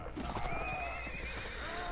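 A horse whinnies in the Mount and Blade: Warband video game, a loud, continuous neigh over steady hoofbeats and battle din with no talking.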